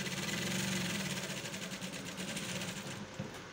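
A sewing machine stitches the shoulder seam of a bomber jacket, a close, fast and steady mechanical whir that runs without a break.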